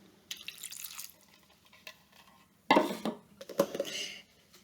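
A quarter cup of water poured into a pot with diced tomatoes, heard as a quiet trickle and then two louder splashing pours close by, with light drips between.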